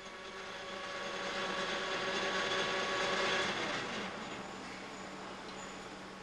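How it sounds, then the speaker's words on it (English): A capstan lathe turns a cylindrical surface on a shoulder bolt with a 90-degree approach turning tool, a steady machine whine and hum that swells and then eases, heard alone at modest level. "The first job is to generate a cylindrical working surface along the Z-axis. This is done using a 90-degree approach turning tool."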